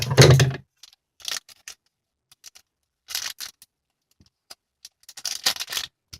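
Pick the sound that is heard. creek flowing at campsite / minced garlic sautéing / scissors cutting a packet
scissors cutting a packet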